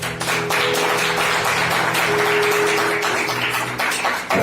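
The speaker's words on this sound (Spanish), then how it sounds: "denle aplausos al Señor." Congregation applauding during a Spanish-language church service, a dense, steady wash of many hands clapping that runs loud and continuous throughout, with a low organ or keyboard drone held underneath.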